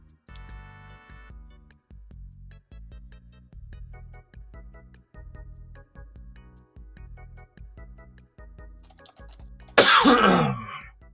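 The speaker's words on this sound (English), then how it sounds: "Sorry for the Rona cough." A person gives one loud, harsh cough and throat clear near the end, following a long stretch of soft, regular ticking and clicking in a quiet room.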